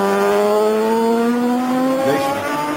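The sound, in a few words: Norton racing motorcycle lapping Cadwell Park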